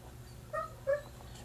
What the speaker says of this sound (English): I'm sorry if you can hear my puppy in the back complaining that she's outside